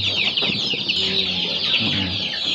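Free-range native Indonesian kampung chickens cluck steadily on a farm, a loud, close flock chorus with overlapping calls throughout and no talking.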